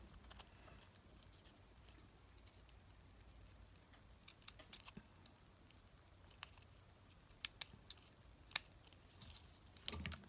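Scissors snip through a ribbon Halloween ruffle embellishment in a few quiet, sharp clicks scattered over faint room noise, close by with no talk.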